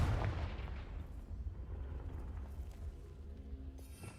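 A fire-spell explosion in the video game Hogwarts Legacy, a loud booming blast at the start that fades into a long rumbling decay.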